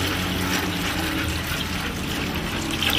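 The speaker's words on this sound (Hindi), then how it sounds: "तो पानी हम डाल देते हैं इसको।" Water poured steadily into a dog's water bowl, a continuous close splashing gush throughout with no voices.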